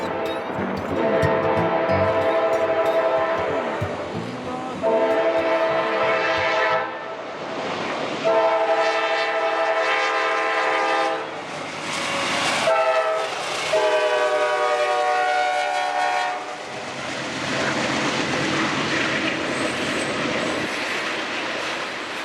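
A train rolls through a small town, with a sustained, harmonic horn or whistle blowing in repeated long blasts over steady rumbling wheels and rail noise, loud and close throughout.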